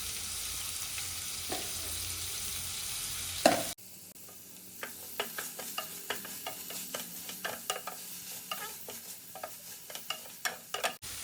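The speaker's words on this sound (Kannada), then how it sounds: "ಈರುಳ್ಳಿ ಬೇಯಕ್ಕೆ ಒಂದು ಸ್ವಲ್ಪ ಸಾಲ್ಟ್ ಹಾಕ್ಬಿಟ್ಟು ಚೆನ್ನಾಗಿ ಈರುಳ್ಳಿ ಬ್ರೌನ್ ಕಲರ್ ಆಗೋ ತನಕನೂ ಚೆನ್ನಾಗಿ ಫ್ರೈ ಮಾಡ್ಕೊಳ್ಳೋಣ" Chopped onions and ginger garlic paste fry in a pan with a steady hiss. After a short break, a spoon stirs and scrapes through them in a run of light, close clicks and taps over a softer sizzle.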